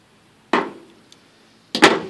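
Two sharp snaps, a second apart, as pieces are broken off an old, gas-soaked float from a Holley carburetor on a Dodge, each a close dry crack with a brief tail.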